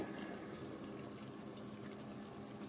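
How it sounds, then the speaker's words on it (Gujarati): Water pours steadily into a pot of green undhiyu, a continuous soft rushing splash at low volume. "ફરીથી થોડું પાણી એડ કરીએ"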